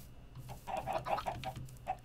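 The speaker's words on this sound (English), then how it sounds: "Excuse you, chicken." A Minecraft chicken clucks in a quick run of short, soft clucks at close range over a quiet background, with no talk.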